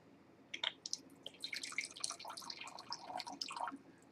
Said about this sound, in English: let's give it a pour and see what we think of it